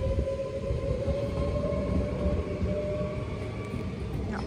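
A train departs a station in Schagen, its steady rolling rumble loud and close, with a faint high whine above it and no talking.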